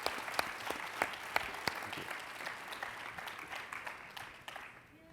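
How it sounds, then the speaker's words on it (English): An audience at a panel discussion applauds, with individual sharp claps standing out over a steady patter of clapping that tapers off near the end. "can we please give a round of applause for the astute panel that's been here today?"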